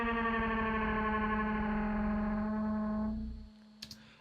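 A buzzy, heavily processed synth-like tone sustains then fades out after about three seconds, followed by two faint short clicks.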